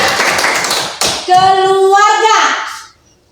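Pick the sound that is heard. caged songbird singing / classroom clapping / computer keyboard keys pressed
classroom clapping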